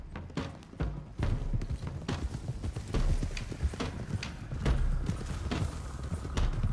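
Horses gallop in Red Dead Redemption 2, with a steady run of hoof clip-clops under dense, busy background noise, loud and continuous throughout.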